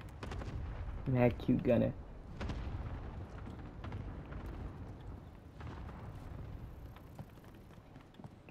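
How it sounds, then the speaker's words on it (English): Cluster strike explosions in a video game: a cluster of heavy booms and impacts near the start, with a voice briefly over them, then rumbling blasts that fade to a quieter background. "Allied cluster strike inbound"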